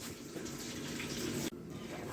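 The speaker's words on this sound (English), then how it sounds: "And you can see the bowl filling up." Water rushing steadily as a toilet bowl and tank refill after a flush, a close, continuous hiss that briefly dips near the end.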